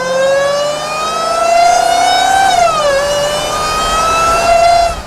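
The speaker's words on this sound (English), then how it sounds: "The sound of that supercharger" The supercharger on a 2023 Dodge Hellcat whines loudly as it is driven. The high, steady tonal scream climbs, drops briefly partway through, then rises again over five seconds, with no one speaking.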